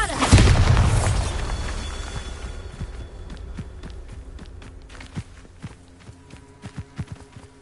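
Bombarda blasting spell cast in a Hogwarts video game: a loud booming explosion that decays into scattered debris clatter and a string of sharp short impacts and taps.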